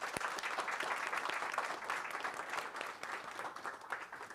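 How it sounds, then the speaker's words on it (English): Applause at a board meeting for a group of women being honored, a steady, moderately distant patter of many hands clapping that continues evenly throughout with no talking. "another round of applause for these fine ladies"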